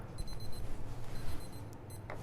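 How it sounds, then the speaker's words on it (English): A kitchen timer rings with quick repeated high electronic beeps in short bursts over a low background hum, fairly faint and without talk. "you're going to hear the timer go off any second now"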